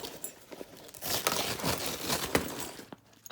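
Plastic zipper bags crinkle and rustle as they are pulled out of a Fishpond Flathead sling bag, a close, noisy scrunching and tearing-like sound lasting a couple of seconds before fading.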